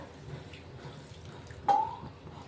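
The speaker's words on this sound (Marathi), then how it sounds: "ते गरम पाणी ओतून घेऊ आपण" Hot water is poured into a pan with a sudden splash and a brief gurgle, following a quiet low background hum.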